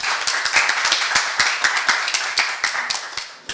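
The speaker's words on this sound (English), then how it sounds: "Please welcome with a round of applause Mr. Dragan Maravic." A conference audience claps to welcome a speaker to the stage, the claps sparse and distinct, suggesting a small crowd, before fading at the end.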